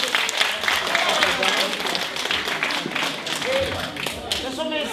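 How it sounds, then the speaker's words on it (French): Guests clap after a card trick performed by a magician at a children's birthday party. The applause is scattered and moderately loud, and voices chatter and call out over it the whole time. "On peut l'applaudir"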